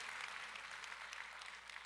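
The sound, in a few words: church congregation applauding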